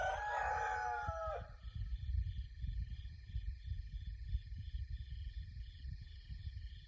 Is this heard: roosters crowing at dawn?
yes